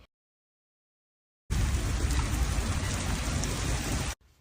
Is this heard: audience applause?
no